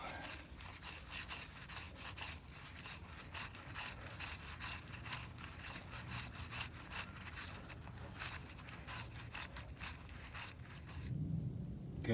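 A ratchet wrench works a 1.5-inch bolt loose on a 1973 GMC motorhome, a steady run of quick, close metallic clicks and rubbing turns that go on for about eleven seconds before stopping, with no talking.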